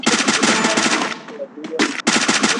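Rapid video game gunfire rattles loud and close in dense bursts, cutting out briefly before a final burst resumes, with no talk over it.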